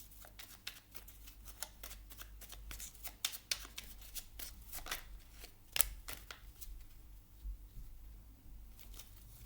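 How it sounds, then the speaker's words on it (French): Small oracle cards are shuffled and drawn in a steady stream of soft riffling flicks and snaps, close and fairly quiet, with a sharper slap near the middle and no talking. "Je vais vous prendre une carte maintenant du petit oracle de la mission de vie."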